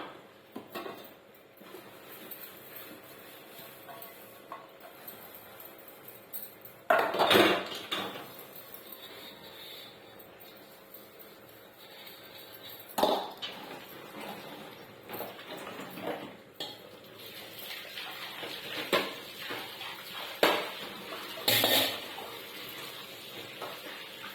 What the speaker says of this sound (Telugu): ఈ లోపల చికెన్ అయ్యేసరికి మనం కొన్ని గిన్నెలు అయితే కడిగేసుకుందాము.